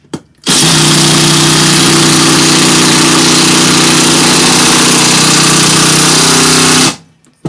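A purple Makita DTD171 impact driver drives a screw into steel in a loud, continuous burst of motor whine and rapid hammering lasting about six seconds before it abruptly cuts out, close up with no speech.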